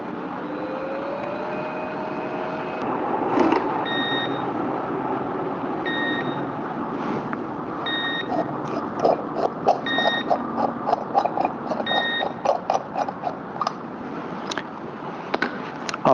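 A lab centrifuge being set for 15 minutes at 12,000 RPM gives a low steady hum, then a string of short electronic beeps and clicks at irregular intervals as buttons are pressed.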